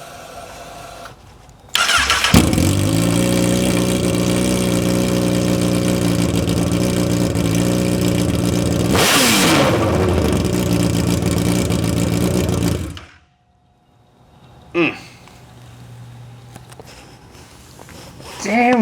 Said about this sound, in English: No exhaust tutorial or install would be complete without a nice raw straight pipe crank up.